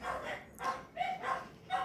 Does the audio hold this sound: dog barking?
yes